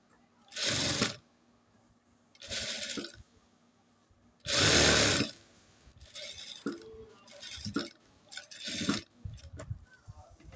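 Domestic sewing machine stitching over elastic and a fabric strap, running in several short bursts of varying length with quiet pauses between, close and fairly loud.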